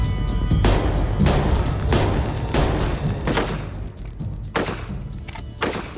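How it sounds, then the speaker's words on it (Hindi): Gunfire rings out during a police raid on a hut: a rapid series of sharp, booming cracks and thuds, some in quick clusters, at moderate distance with no talk over them. "सामने फायरिंग चल रही है इनकी"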